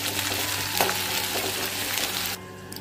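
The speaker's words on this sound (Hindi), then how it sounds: "इधर जब तक मेरा प्याज फ्राई हो रहा है" Onions frying in oil with cumin for a mushroom curry, a steady close sizzle with light crackles that drops to a quieter hiss near the end, without speech.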